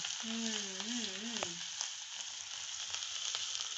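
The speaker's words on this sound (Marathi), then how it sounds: "बघा कसं कोथंबीर आणि हळद मस्त झणझणीत असा तडका तयार झाला आपला" Tempering of coriander and turmeric with chili sizzles steadily in hot oil, a loud, continuous close-up hiss with faint crackles. A brief voice-like tone rises over it near the start.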